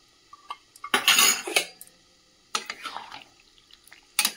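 A spoon clinks against a bowl while stirring cornflour into water, with bursts of scraping and clatter separated by brief pauses.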